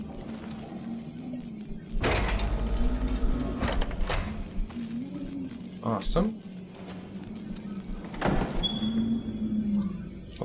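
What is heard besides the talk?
door unlocking and sliding open in a video game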